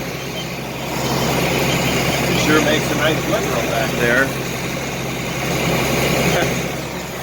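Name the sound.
tractor engine while raking hay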